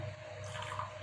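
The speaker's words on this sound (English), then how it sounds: "Now I will pour the hot milk which I have" Hot milk poured into a coffee cup for instant coffee, a brief steady liquid stream, close and fairly quiet, with no talking.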